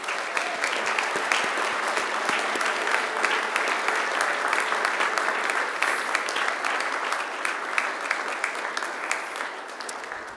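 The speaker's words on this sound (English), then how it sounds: "give them a mighty round of applause in thanks" Graduates at a Macquarie University ceremony turn and applaud their families, a long stretch of dense hall-filling clapping from a large crowd, even and sustained with crisp individual claps standing out.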